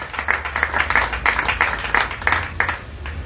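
A church congregation applauds for Jesus, with steady rhythmic clapping from many hands at a moderate distance that continues throughout.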